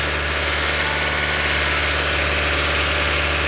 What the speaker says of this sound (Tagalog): Palit tayo ng water pump. Ayan, water pump. Bagong water pump na yan.